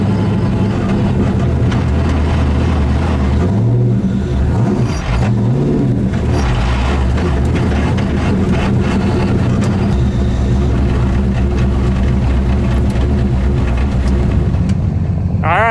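A race car lapping fast on track, its engine roaring steadily and loud throughout with shifting pitch sweeps as it accelerates and brakes, heard from on board without talk.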